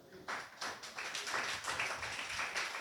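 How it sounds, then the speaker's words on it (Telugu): A church congregation claps hands together, a dense, lively patter of many claps sustained at moderate loudness, with a voice faintly mixed beneath. "ఒకసారి గట్టిగా చప్పట్లు కొడదామా?"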